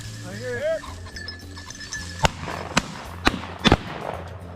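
Several sharp, loud shotgun blasts crack out during a pheasant hunt in open country, four reports spaced irregularly over a few seconds, following brief talk from hunters.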